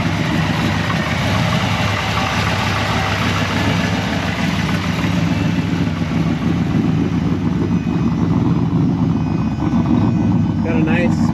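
Ford F150 turbo mini truck with a newly installed engine idling smoothly, a constant low engine drone that holds steady throughout while a person talks over it.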